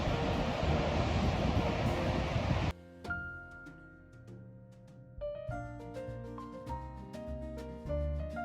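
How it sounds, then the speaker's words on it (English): Loud, rough wind buffeting the microphone for a few seconds at Asilomar State Beach at low tide, then cutting out abruptly as tonal music takes over. "A little windy today"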